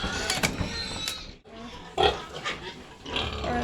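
Pigs on a pig farm grunt and squeal nearby, several bursts of noisy calls with a short pause midway, fairly close and moderately loud.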